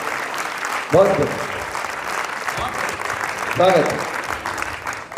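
Steady audience applause at a Hindi kavi sammelan poetry gathering, a dense clapping roar throughout with swells near the start and end while someone speaks briefly over it.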